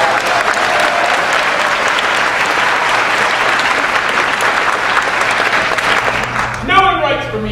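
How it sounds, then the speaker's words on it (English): A theater audience at a Broadway comedy performance applauds loudly as an actor enters on stage, dense sustained clapping filling the room, with a brief voice rising near the end. "The audience applauds loudly when he comes in."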